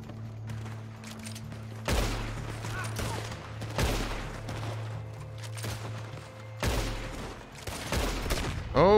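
Red Dead Online gunfight with shotgun blasts: several sharp, loud reports spaced a few seconds apart over a low steady hum, with scattered quieter shots in between.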